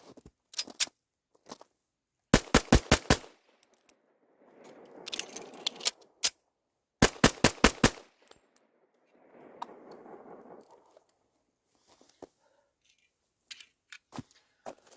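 Pistol shots fired with the stock factory recoil spring ring out in tight rapid strings of four or five, loud and sharp, separated by quiet gaps and softer rustling handling noise, with a few scattered single shots.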